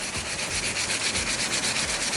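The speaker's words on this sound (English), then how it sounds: "I'm just going to sand it again" Sandpaper rubs back and forth by hand on a 1995 Mazda Miata wiper arm in a steady, close, rasping rhythm, continuous with no talking.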